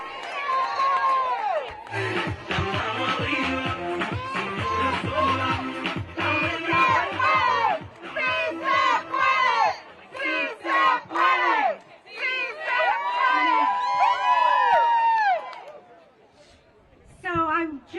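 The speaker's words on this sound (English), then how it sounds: "Let's give it a huge round of applause." Crowd outside the Supreme Court erupting in loud cheers, shouts and rhythmic chanting, with voices calling out over the noise in waves before it briefly dies down near the end.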